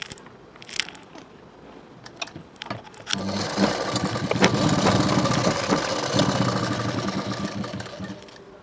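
A sewing machine stitches a blouse shoulder seam at half-inch allowance, starting with scattered clicks and handling noise, then running steadily and loudly for about five seconds, close up.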